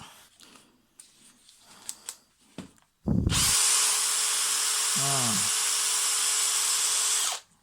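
A few soft knocks and handling noises, then a Bosch GSB 18 cordless combi drill whirs up loudly and runs steadily for several seconds before stopping, close by.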